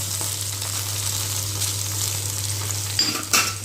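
Okra (ladies finger) roasting in a pan gives a constant close hiss and sizzle, with a couple of sharp scraping stirs near the end and a steady low hum underneath.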